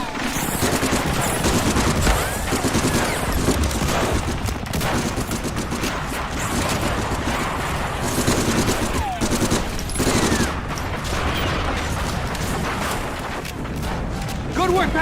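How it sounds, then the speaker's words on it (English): Machine gun fire from bunkers in the WWII video game Medal of Honor: Frontline, rapid sustained bursts and scattered shots throughout with occasional booms, loud and constant, with soldiers' voices shouting over it. "And watch for fire from those bunkers!"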